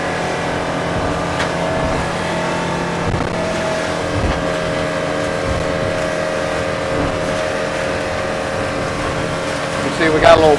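Shrimping boat motoring out into open water, its engine a steady, continuous drone with a low rumble and tonal hum, holding level throughout and rising slightly at the very end.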